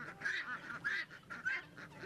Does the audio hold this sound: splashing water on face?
no